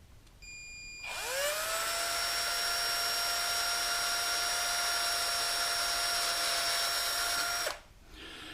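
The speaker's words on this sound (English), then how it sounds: "I just turned it on real slow and started drilling" An electric drill starts up and runs at a steady whine for several seconds, cutting into a plastic blender lid, then winds down and stops.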